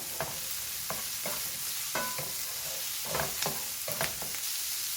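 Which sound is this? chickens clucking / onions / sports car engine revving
onions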